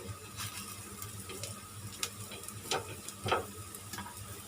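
Besan (gram flour) chilla batter sizzles in a hot pan during home dinner cooking, a soft, steady crackle with a few louder spits and pops, heard alone without talk.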